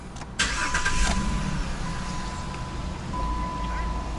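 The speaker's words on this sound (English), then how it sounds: "Cycle the key off again and start the car." A car engine starts after its diagnostic trouble codes are cleared, catching with a brief burst and settling into a steady, moderately loud idle hum, with no speech over it.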